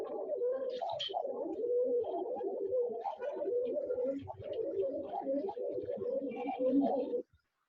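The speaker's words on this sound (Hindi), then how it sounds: "अब है कबूतर की गुट्टर गूं।" Steady low pigeon cooing runs throughout, soft repeated rolling coos close by, with a few faint higher chirps and rustles in the background.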